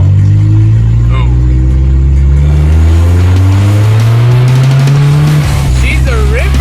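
A worn 70-horsepower Honda Civic with a tired clutch revs hard while driving, its loud, close engine drone climbing in pitch and dropping back through gear changes, with people talking and exclaiming over it.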